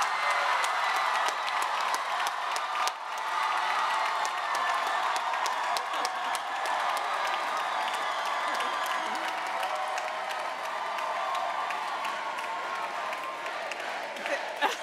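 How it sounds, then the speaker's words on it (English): Audience applause fills a university convocation hall, a dense, steady wash of many hands clapping with a few cheers, holding loud for the full stretch and easing only slightly near the end. "we're going to get a loud round of applause for this"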